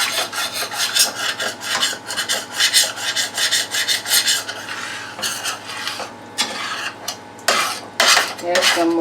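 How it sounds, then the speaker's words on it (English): Metal utensil scraping browned bits of chicken and gravy across the bottom of a pan, a run of loud, close rasping strokes with no talking. "There's some more flavor here. I'm going to scrape that up."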